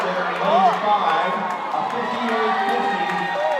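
Crowd at a swimming championship cheers and shouts for a swimmer, a lively steady roar of voices with an announcer talking over it.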